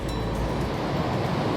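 Water rushing and raging over rocks along a hiking trail in Fundy National Park, a steady loud broadband roar with no talking.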